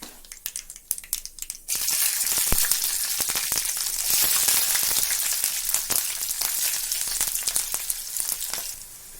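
Mustard seeds and finely chopped green chillies hit hot oil in a kadai and burst into loud, continuous sizzling and spitting, with sharp crackles and pops throughout after a few quieter taps at the start.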